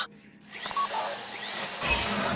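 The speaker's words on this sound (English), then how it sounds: "If the drill burns out, this whole thing will take too long." Power drill grinds steadily into a safety deposit box during a Fleeca bank heist in GTA V, a loud continuous whirring that swells toward the end.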